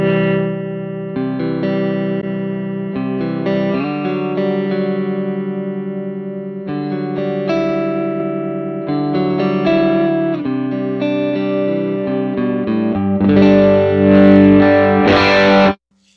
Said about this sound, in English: Let's roll volume down and see what happens on our guitar.